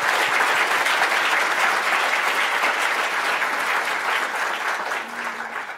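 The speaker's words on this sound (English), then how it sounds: "Can we please give them a round of applause?" A room full of people applauds library award honorees, a loud, dense burst of clapping that stays strong for several seconds and gradually thins toward the end.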